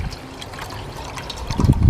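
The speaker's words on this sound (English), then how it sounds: "We're just gonna pour in a carefully measured 2 cups of water" Water poured into a metal canteen cup outdoors, a short steady trickle that swells into a fuller, louder splash near the end.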